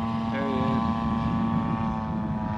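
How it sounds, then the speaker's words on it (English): Sport gyrocopter flying overhead, a steady propeller and engine drone with a strong tonal buzz held evenly throughout, moderately loud against a broad rumble. "Okay, now here's the sport copter."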